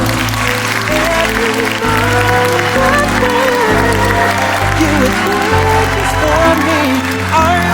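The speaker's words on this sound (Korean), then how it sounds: "뜨거운 박수로 오늘의 주인공을 맞이해 주시기 바랍니다." Steady applause fills a wedding hall over music as the bride and groom enter, a continuous wash of clapping from a large crowd throughout.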